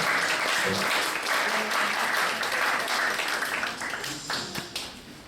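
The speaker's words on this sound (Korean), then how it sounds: "다시 한번 우리 박예나 소그룹 우리 새가족 팀을 향해서 축복과 동행 박수 하겠습니다" Steady applause from a church congregation at a youth worship service, many hands clapping together at an even level, tapering slightly toward the end.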